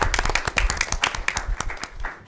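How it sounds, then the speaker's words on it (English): A room of people at a school board meeting claps in brisk, dense applause that fades out after a couple of seconds. "Let's give her a round of applause"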